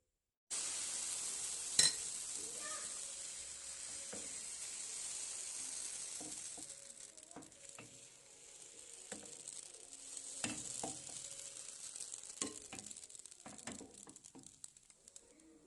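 Frying in a pan until golden gives a steady sizzle and hiss, with scattered clicks and taps of utensils breaking through, moderately close and without speech.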